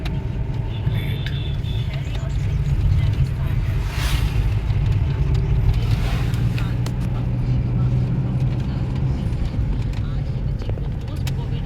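A vehicle drives along a mountain road near Chakrata, Dehradun, with a steady low engine rumble and road noise throughout, loud and close, while people talk over it.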